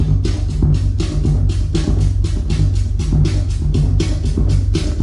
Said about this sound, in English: we're using that to create a hi-hat sound,